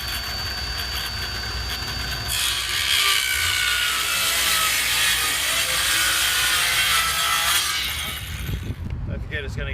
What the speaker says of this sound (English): We're going to cut this piece here off. Got our saw angled.